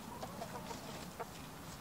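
Chickens cluck softly in a garden planting bed: a few short, scattered clucks over a steady low background hum, fairly faint and close by, with no talking.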